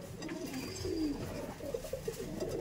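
Madras pigeons cooing in a home loft, a few soft, low coos in a short series, fairly faint and close, with no talk.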